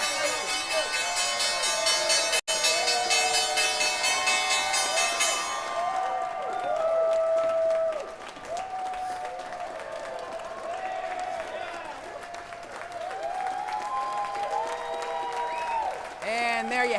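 A crowd on the New York Stock Exchange floor cheers and applauds at the Friday closing bell, with a bell ringing through dense clapping and whoops, then loud sustained crowd noise while voices talk over it.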